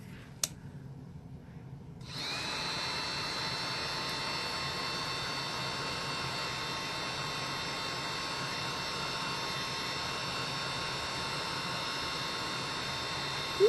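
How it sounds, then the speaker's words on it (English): After two seconds of near quiet, a heat gun switches on and blows steadily on resin in a mold, a constant, close, whining hum and rushing air that holds level to the end. "Put a little bit of the heat gun in there."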